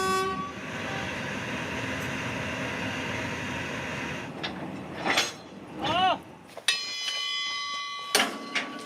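A long freight train on the China Silk Road route rumbles steadily past, then short horn toots and squealing wheel or brake tones break through near the end, with no talking.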